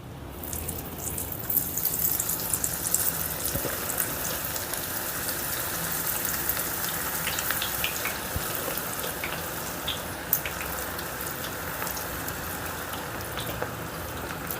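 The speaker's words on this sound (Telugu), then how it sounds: "ఇప్పుడు స్టవ్ని మీడియం ఫ్లేమ్లో పెట్టుకొని పకోడీ వేసుకుందాం" Onion pakoda fries in oil over a medium flame, giving a steady, close crackle and bubbling hiss that runs without a break, with scattered louder pops.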